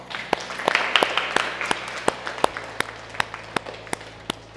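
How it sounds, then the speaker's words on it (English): Workshop participants clap for themselves, sparse separate claps at first that settle into a few scattered slaps at a loose, uneven rhythm, fairly close in a quiet room. "Then clap for yourself"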